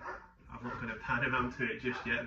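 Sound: German Shepherd dog barking

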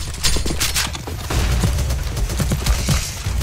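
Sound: gunfire in the video game CS:GO

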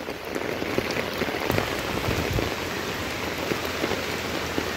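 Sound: rain falling

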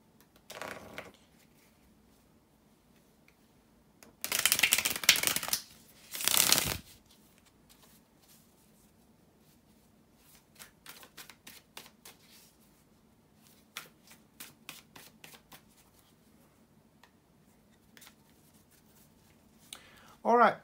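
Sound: shuffling tarot cards

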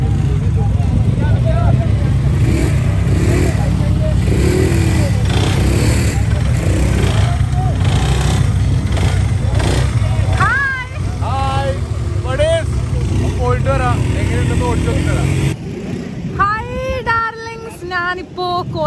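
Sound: quad bikes revving in Dubai desert

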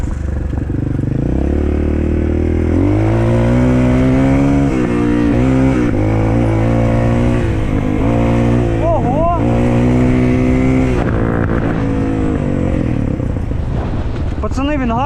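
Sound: Shineray VXR 300 motorcycle riding

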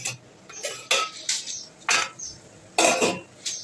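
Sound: lid being taken off a pot of cooking mutton

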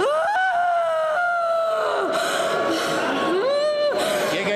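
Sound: woman screaming during deliverance prayer

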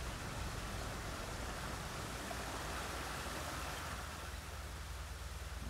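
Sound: rain cloud in video game Dreams

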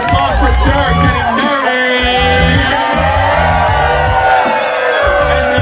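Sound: applause and cheering

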